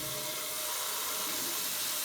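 Bidet water spray turned on, a steady, close, loud hiss of running water.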